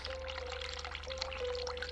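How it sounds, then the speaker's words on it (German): Cold water running from a tap in The Cat Lady video game, a steady pouring rush with a thin constant tone underneath, continuous and even for the whole stretch, with no voices. "Dreh kaltes Wasser auf."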